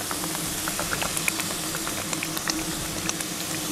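Stir-frying in a pan, with steady close sizzling and crackling and scattered small pops and spatters throughout.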